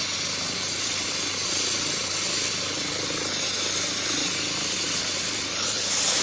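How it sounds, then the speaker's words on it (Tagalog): A helicopter flying overhead gives a steady rotor roar that fills the scene, loud and continuous with a constant engine whine on top, no voices. "Nakakabingi yung ingay ng helicopter."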